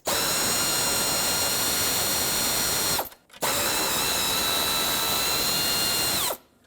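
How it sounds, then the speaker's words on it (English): An 8mm socket on a power tool spins out the retaining bolts holding the power steering reservoir on a 2008-2010 Ford F-250, two loud, steady whirring runs of about three seconds each separated by a short pause. "Use an 8mm socket and remove both of the retaining bolts."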